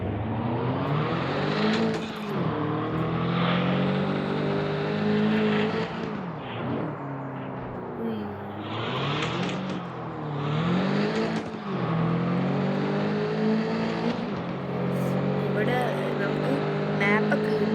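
A car in a Forza-style racing video game revs loudly, its engine note climbing and falling through repeated surges while the handbrake is pulled. Someone talks continuously over the engine.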